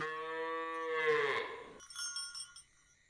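A cow lets out a long, loud moo with a falling pitch, followed by a few quick jingling bell-like rattles; no one speaks.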